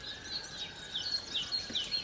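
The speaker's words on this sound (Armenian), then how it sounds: "Թռչունները երգում են։" Birds at dawn give several brief high chirps and tweets, spaced irregularly and fairly faint over quiet outdoor ambience.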